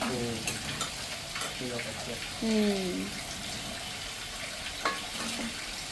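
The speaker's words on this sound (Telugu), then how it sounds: "ఇప్పుడు గోంగూర పచ్చిమిరకాయలు టమాటాలు మూడు కలిపి మగ్గుతున్నాయి" Gongura leaves, green chillies and tomatoes stewing together in a pan, a continuous close sizzle and bubbling with occasional stirring scrapes, while voices talk faintly over it.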